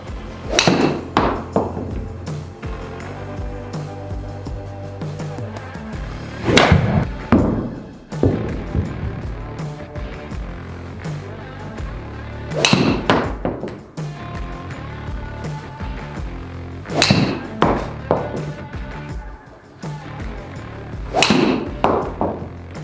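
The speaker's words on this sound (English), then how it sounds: "that is a load of shots hit with the TAYLORMADE M5, jam-packed full of weights" Golf balls struck with a TaylorMade M5 driver loaded with extra weights: about half a dozen sharp, solid impacts spaced a few seconds apart, each with a short ringing tail, over low background hum.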